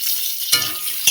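Chopped onion and black cumin fry in a wok, giving a steady bright sizzle with two short louder bursts as the pieces are stirred.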